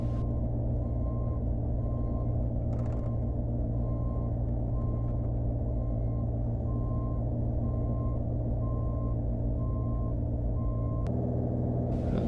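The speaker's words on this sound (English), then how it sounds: "We'll keep offloading this trailer here." Truck and trailer offloading gravel for a boulder retaining wall: a steady low diesel rumble under evenly spaced reversing beeps that run throughout, with a brief hiss near the start and no talk.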